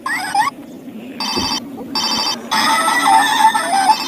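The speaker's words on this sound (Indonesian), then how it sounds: "Wah, ini telepon Hello Kitty teman-teman." A Hello Kitty toy telephone rings loudly and close up, playing a bright electronic jingle in repeated bursts separated by short pauses.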